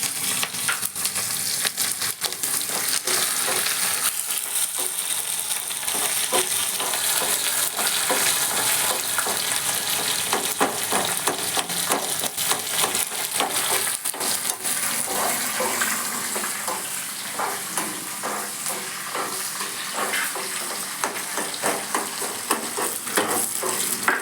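Onion frying in a pan with chillies, garlic and ginger, a continuous close hiss and crackle of sizzling oil with occasional stirring scrapes, steady throughout.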